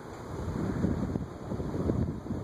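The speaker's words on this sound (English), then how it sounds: "It's moving a decent amount of air for a 36-inch fan." A Progress Lighting Apollo P-2503 36-inch antique brass cast iron ceiling fan running at full speed, giving a steady, whooshing rush of moving air heard up close without pause.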